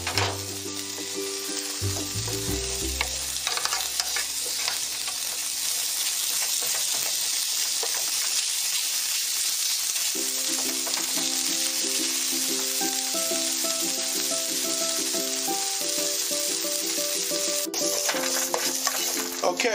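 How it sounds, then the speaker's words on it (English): Broccoli sautéing in a seasoned pan over rising heat, a dense continuous sizzle with stirring clatter, close and loud throughout, with no voices. "Now the same seasoned pan, let's get our broccoli in there. And we're gonna saute these up."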